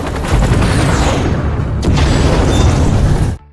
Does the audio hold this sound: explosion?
yes